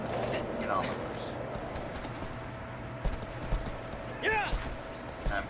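Horse hoofbeats in the video game Shadow of the Colossus clop in a quick rhythm, then a few sharper thuds stand out over steady background noise and a faint voice.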